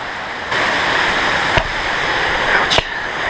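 River water on the Black Forest Trail rushing steadily nearby, a loud continuous broadband wash with two brief knocks or splashes partway through.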